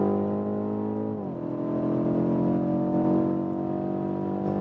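BMW M850i 8-Series coupé under throttle at speed, a steady engine drone that dips briefly as the pitch drops with a gear change, then holds a sustained, moderately loud tone over road and wind noise.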